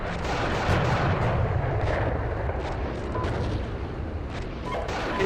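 Dense, continuous battlefield din of gunfire and artillery in the Steel Beasts Pro PE tank simulator, a loud, sustained wash of rumbling blasts and crackling shots with no clear pauses.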